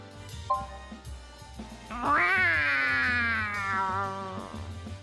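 A cat meows in a video game comedy skit: one long, loud, rising-then-falling meow that swells and holds before fading, with a brief chirp just before it over low background hum.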